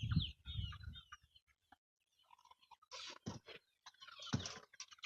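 Farmyard chickens cluck in scattered, irregular bursts with quiet gaps between, close by and alone.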